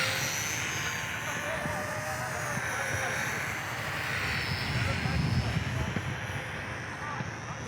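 An Eachine Mini Cessna micro RC plane flies overhead with a steady, high buzzing motor whine that rises and falls slightly. Wind rumble and a person talking can be heard under it.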